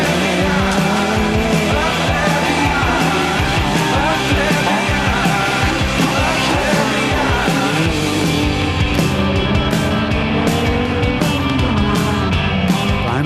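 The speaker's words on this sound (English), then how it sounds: "wider, more abrasive road for his little Super 1600 Clio, and he absolutely scorches up the gap" A Renault Clio Super 1600 rally car at the 2010 Rally of the Lakes screams up a wider, abrasive road, its engine revving hard and loud through gear changes with tyre squeal, the note steady and close throughout.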